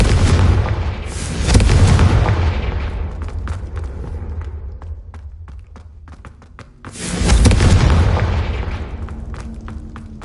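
Confringo fire spell exploding in the Hogwarts Legacy video game: two loud, deep booming blasts, one near the start and one around seven seconds, each followed by a rumbling decay with scattered crackles.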